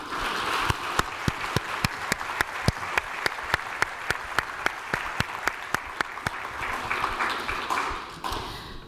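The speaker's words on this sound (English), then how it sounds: "I want to give them a round of applause for that." Graduation celebration applause for the Cleveland Clinic Lerner College of Medicine class of 2026: quiet, evenly spaced claps that land in a steady rhythm, as if a crowd is clapping together, then loosen toward the end.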